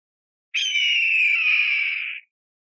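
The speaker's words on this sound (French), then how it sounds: "L'aigle royal." A golden eagle gives one drawn-out, high, slightly descending call lasting under two seconds. It is loud and clear against silence.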